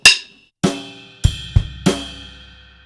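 Drum kit bar from a Grade 4 rock lesson: a ride bell note opens, then spaced ride bell, bass drum and snare strikes follow in a syncopated pattern, close and loud, each ringing out, with no talk.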